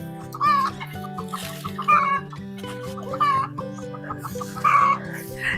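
A hen cackles after laying an egg in a vegetable garden, with several loud, rhythmic bursts of clucking spread across a few seconds over a steady, faint background of music.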